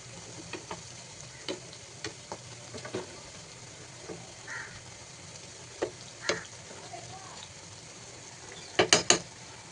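Mini jangiri fry in oil on low heat, a faint steady sizzle broken by scattered soft clicks of a utensil and a quick burst of clinks near the end, no voices.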